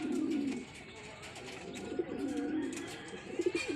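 Racing pigeons coo close by in their loft, repeated low throaty rolling calls, with faint fluttering and scuffing around them and a soft voice now and then.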